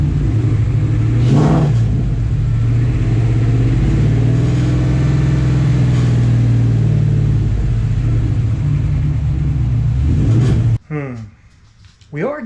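A car engine revs hard and high for a long stretch, a loud steady drone with a rattling exhaust, before cutting off abruptly near the end, leaving faint noise and brief talk.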